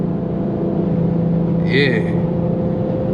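Infiniti Q50 with a 3.7 V6 engine and a swapped VR30 transmission pulling hard, heard as a steady, loud low engine drone inside the cabin, with a voice speaking briefly over it.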